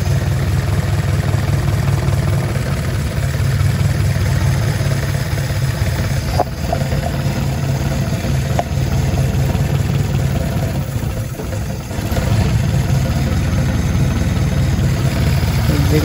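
An engine idles at low rpm, around 500, while its carburetor is tuned with a Fueltech wideband, a loud, steady, close rumble with a faint clatter that dips briefly near the end.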